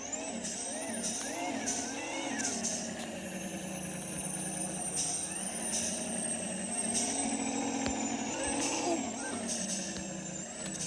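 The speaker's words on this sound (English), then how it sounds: "I'm gonna have to reposition my truck again." A truck reversing with a trailer in a Roblox farm game gives off a steady, continuous engine drone with shifting tones and a faint high whine, unbroken throughout.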